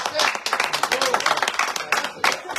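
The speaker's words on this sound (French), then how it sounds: "vous pouvez applaudir quand même" A studio audience on a French bistro-style radio show breaks into brisk clapping, dense and close, mixed with a few voices and some crowd murmur.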